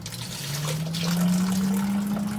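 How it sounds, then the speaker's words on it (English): Water running from a kitchen tap while food items are rinsed off during home cooking, a steady close trickle and splash over a low hum, with no talking. "Wash these off real fast."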